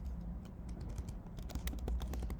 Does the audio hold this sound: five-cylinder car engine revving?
no